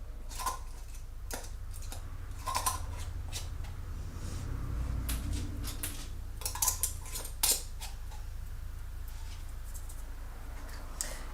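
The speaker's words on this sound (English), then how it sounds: "I'm going to go ahead and put the lids on these." Metal lids being set and clicked onto hot glass jars of homemade SpaghettiOs in a kitchen, a series of light clinks and ticks scattered over a steady low background hum, with no talking.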